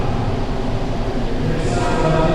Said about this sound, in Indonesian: Ini kereta kita sudah dipanggil guys.